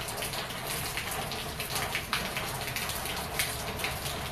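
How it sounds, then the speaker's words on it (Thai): Light rain falls outdoors under dark, overcast skies, a soft, even patter of drops that goes on steadily with no voices. "น้องฝนก็โปรยปลายลงมา เย็นสบายชุ้มส่ำเลยค่ะ"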